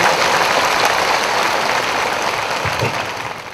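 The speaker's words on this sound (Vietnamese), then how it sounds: "Xin một tràng pháo tay." Loud, sustained applause from a large crowd at a Catholic bishop's ordination Mass in Xuân Lộc, Vietnam, steady throughout and tapering slightly at the end.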